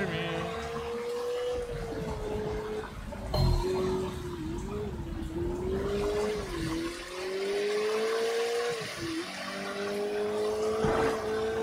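Cars race and skid in the video game Sleeping Dogs, a loud sustained engine drone rising and falling in pitch with tire squeals and a sharp impact partway through.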